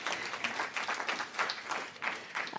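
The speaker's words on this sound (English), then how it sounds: "Let's applaud for Chloe." Audience applause for an honoree at a Boston public radio event, a fairly quiet, brief patter of clapping from a modest crowd, moderately distant and steady.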